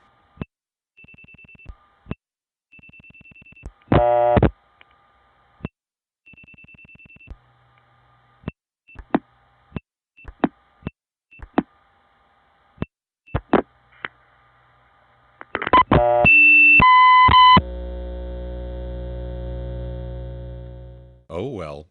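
On a 1976-77 long-distance telephone line through a step tandem, clicks and short ringing bursts of dialing give way to a loud, steady 1 kilohertz, 1 milliwatt test line tone that holds for several seconds before fading.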